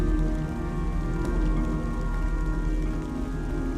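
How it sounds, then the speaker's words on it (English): Heavy rain pours in a steady, dense hiss, continuous and fairly loud, with a soft background of faint tonal music. "it's raining cats and dogs outside"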